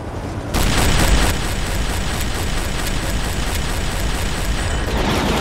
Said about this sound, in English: Damn, they're shooting back.